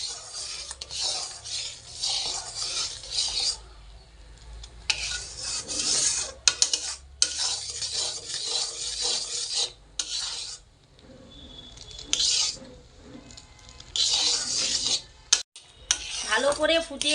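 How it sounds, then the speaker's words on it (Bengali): A utensil scrapes and rubs against a pan as sugarcane jaggery boils, giving repeated rasping strokes in bursts separated by brief pauses, close and fairly prominent. "আমি আরও কিছুক্ষণ নেড়ে চেড়ে গুড় ভালো করে ফুটিয়ে নেব"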